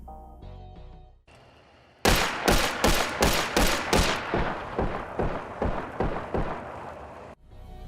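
Paired pistols fired in Hunt: Showdown, a rhythmic string of about a dozen loud, evenly spaced shots with sharp attacks and short decays, following a few quieter clicks at the start.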